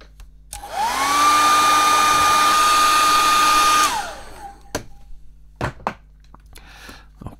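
Heat gun blowing hot air onto the glued case of a Palm V PDA to soften the adhesive, a steady loud whooshing roar for about three seconds that spins up and cuts off, followed by a few light knocks and handling sounds.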